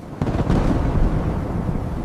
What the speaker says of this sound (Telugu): ఒకరోజు గ్రామంలో తీవ్రమైన తుఫాన్ వచ్చింది.